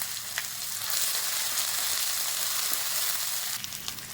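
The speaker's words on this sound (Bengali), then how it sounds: "একটু জল দিয়ে মশলাটা ভালো করে কষিয়ে নেব।" Ginger, green chili and cumin paste with turmeric and salt sizzles and fries steadily in hot oil in a pan, a close, continuous crackle with occasional brief pops and no talking.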